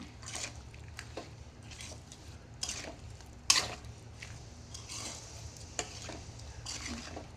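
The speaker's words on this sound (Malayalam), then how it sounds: "അതിലേക്ക് മുളക് പൊടി മുളക് പൊടി ഇട്ട് അതിലേക്ക് അരിഞ്ഞ് വെച്ചിരുന്ന മാങ്ങ ഇട്ട് നമുക്കൊന്ന് ഇളക്കി കൊടുക്കാം" A spoon works chilli powder through chopped raw mango for pickle, making soft, wet mixing and scraping sounds in irregular strokes, with one sharp clack midway; quiet and close.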